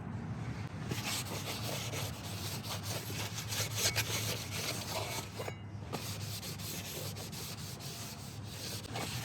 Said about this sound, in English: we'll just go around with some brake parts cleaner and a clean rag and get that all prepped